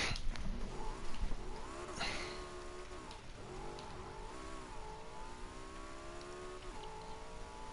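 A deep Porsche V8 engine in the video game Need for Speed Heat revs and shifts through gears, pitch rising and falling repeatedly as the car accelerates, steady and fairly close.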